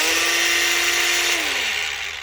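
Bosch angle grinder fitted with a cutoff wheel runs at a steady high whine close to the mic, then its pitch drops as it spins down near the end.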